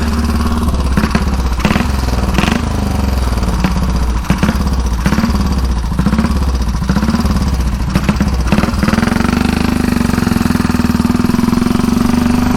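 A 1934 Velocette KTT vintage racing motorcycle engine runs loud and close, with a steady thumping single-cylinder beat, rising and falling with throttle, then settling into a constant drone.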